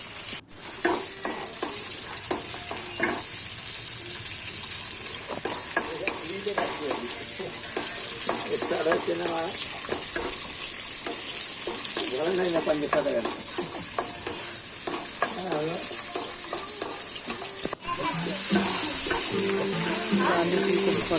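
Onion, cauliflower and potato fry in a pan (kadai), a constant crackling sizzle broken by frequent stirring scrapes, growing louder toward the end, with a voice briefly audible underneath.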